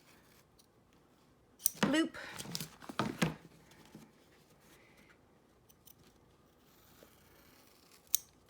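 Scissors snip through craft tape in a short burst of crisp cuts and crinkles, close up, followed by quiet handling and a couple of faint taps, with a voice speaking softly in places.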